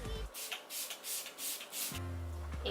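Smashbox Primer Water face mist sprays in several quick pumps, each a soft airy hiss in a rhythmic series, close to the microphone, followed by a low hum.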